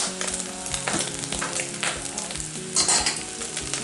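Beef lasagne sauce with cumin and black pepper sizzles in a pan, a continuous frying hiss with soft scraping and clinking as a spoon stirs it, close and moderately loud.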